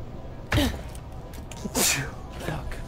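A person sneezes sharply close to the microphone during a Borderlands: The Pre-Sequel gaming session, followed by a second louder burst, with voices and game sounds underneath.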